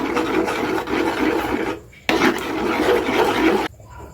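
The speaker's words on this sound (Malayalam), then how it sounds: "ഞാനിവിടെ ഫുഡ് കളർ ആഡ് ചെയ്തിട്ടുണ്ട് നമുക്ക് നന്നാന്ന് മിക്സ് ചെയ്ത് കൊടുക്കാം" Kesari with food colouring being stirred in a pan, heard as close, steady scraping and rasping strokes in two long bursts with a brief pause between, no talk.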